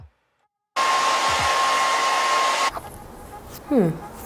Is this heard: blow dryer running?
yes